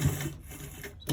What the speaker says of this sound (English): I need to stitch the lace here